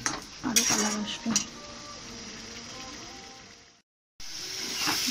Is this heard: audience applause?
no